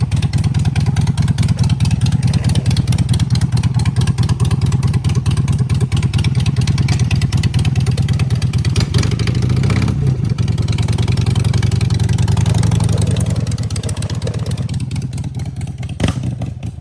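An EFI Harley-Davidson Sportster chopper idles and revs loudly up close, its rapid throbbing pulses steady for a long stretch before the engine note eases and fades slightly near the end.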